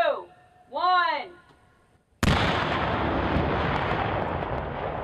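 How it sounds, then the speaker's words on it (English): A test detonation of a non-metallic underwear bomb device: after a brief voice and a pause, one sudden loud blast erupts and then rolls on as a sustained roaring, rumbling wash of noise. "This was how his bomb would have exploded."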